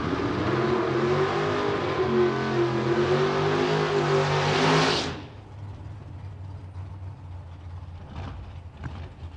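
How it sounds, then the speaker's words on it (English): A drag race car engine roars loudly at close range as the throttle is blipped on and off, a dense rising snarl that cuts off abruptly after about five seconds and leaves only faint background rumble. "You see him hitting the throttle down there, man, getting off and on it."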